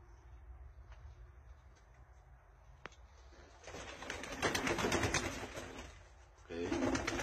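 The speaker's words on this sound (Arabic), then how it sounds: "هدول هن الطيور" Pigeons of a fancy breed cooing in a loft, soft low coos under a background hum, with rustling and a brief knock partway through and a louder burst of activity near the end.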